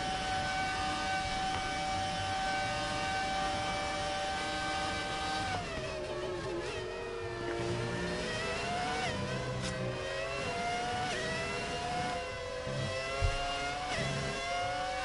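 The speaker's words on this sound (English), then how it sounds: "Just listen to the engine sound." High-pitched Formula 1 engine whine from classic F1 racing at the Belgian Grand Prix, a steady tone that drops and wavers through gear changes and revving, loud and continuous with crowd-like broadband noise underneath and no talking.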